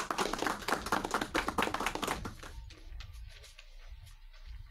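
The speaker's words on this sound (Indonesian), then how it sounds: "Tepuk tangan semua." A small studio audience claps for a guest lecturer at the start of a podcast: a few seconds of close, fairly sparse hand clapping that fades into quiet room tone.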